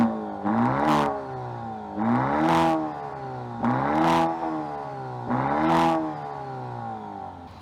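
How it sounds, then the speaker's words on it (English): Exhaust of a 2025 Maserati Grecale Modena revving in four strong, evenly spaced blips, each rising quickly in pitch and dropping back to idle, loud and close with no voices. "We should probably hear how that exhaust sounds."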